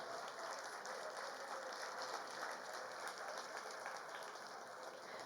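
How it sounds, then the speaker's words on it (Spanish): Steady applause from an audience at a Colombian ceremony honoring the president of the Supreme Court of Justice, a dense, even patter of many hands held at moderate level for the whole stretch without a break. "ese fuerte aplauso para nuestro presidente"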